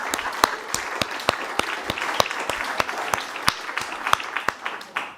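An audience applauds panelists at a maritime planning conference, a dense, close run of brisk claps that carries on steadily before fading, with a voice briefly under it.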